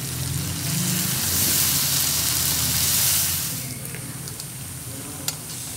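Fried cauliflower pieces sizzle loudly as they are tossed into gobi manchurian sauce in a hot pan, a steady dense crackle that eases slightly toward the end, with a faint clink near the close.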